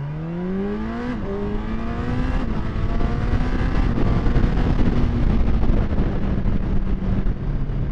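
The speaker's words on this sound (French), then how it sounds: "je vais vous faire un petit départ 0 à 100 avec le shifter" A 2018 Honda CB1000R+ motorcycle launches hard from 0 to 100 km/h with a quickshifter, the engine climbing in pitch with quick gear shifts, loud and close, wind rushing over the microphone.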